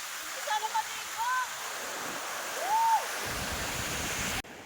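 Water rushing steadily at Pinsal Falls, a broad continuous roar that holds throughout, with a few faint higher tones and a brief shift near the end.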